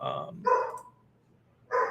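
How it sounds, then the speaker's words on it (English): A dog barks indoors in short, sharp bursts: two quick barks close together, a pause, then another bark, moderately near and fairly loud. "The dog is barking."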